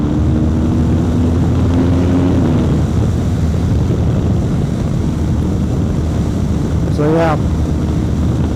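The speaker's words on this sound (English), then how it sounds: "So here we go, bit of riding. Last time riding the GS." A BMW GS motorcycle being ridden, with a steady engine drone buried under heavy wind rush across the helmet microphone, and a rider speaking briefly over the continuous roar.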